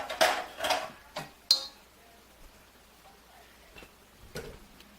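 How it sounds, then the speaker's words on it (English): A toddler pulls pots and pans out of a kitchen cabinet, producing several scattered metallic clanks and clinks, sharper near the start, then softer, sparser knocks in a quiet room. "One of George's favorite hobbies is unloading my pots and pans cabinet."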